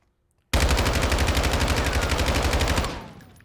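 Sustained automatic fire from an assault rifle with a 60-round drum in Warzone 2.0, a loud, rapid, evenly pulsed burst of about two and a half seconds that starts abruptly after brief silence and then trails off.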